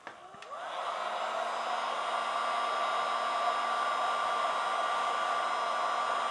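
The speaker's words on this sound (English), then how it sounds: "Now you can do this with your heat gun or wood burner." Heat gun warming EVA foam, switching on with a short rising whir and then holding a steady, fairly quiet blowing hum with no talk over it.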